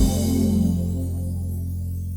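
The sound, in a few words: keyboard accompaniment style ending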